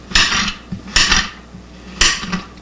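A knife chops through an onion onto a board in three sharp, close strikes with short scraping rustles between them, rather loud in a quiet room.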